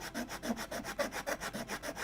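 A hand file rasping across plywood on a 1:76 Mayflower model ship kit skeleton: steady rhythmic back-and-forth strokes, about eight per two seconds, close and even, with no voices.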